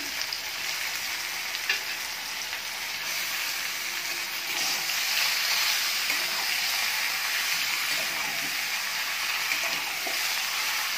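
Chicken pieces sear in a kadai with a loud, dense, unbroken sizzle that swells slightly midway, with faint stirring scrapes underneath; no one speaks.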